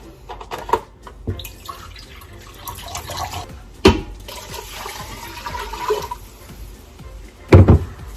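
Broth poured into a cooking pot holding chicken and water, an uneven splashing pour with sharper sloshes and a loud gush near the end.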